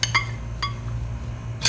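A spoon clinks against the bowl while food colour is mixed into a coconut ladoo mixture, with three sharp metallic taps spaced out across a quiet background.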